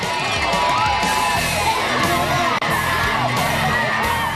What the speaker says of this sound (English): There's the Wisconsin gang cheering on their favorite drivers.